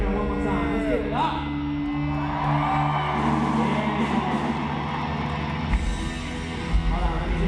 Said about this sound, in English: You guys ready to cheer?